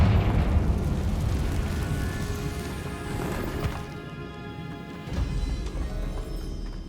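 A Confringo fire spell explodes in the video game Hogwarts Legacy, a loud rumbling blast with crackling debris that rolls on for several seconds before easing and swelling again.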